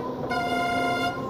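Typhoon air horn on a MAT 64 train in Train Simulator Classic, a single sustained tonal blast of about a second that starts abruptly and cuts off, fairly close and alone.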